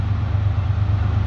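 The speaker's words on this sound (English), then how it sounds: "So you hear that EMD rumble." A CSX freight train's EMD diesel locomotive, a GP38-3 among the units, rumbles in a deep, steady low throb, loud and close, with no talk.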